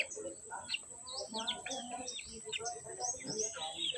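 A backyard flock of chickens clucks and chirps in quick overlapping calls at close range, with a faint voice mixed in.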